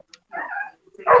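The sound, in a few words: dog barking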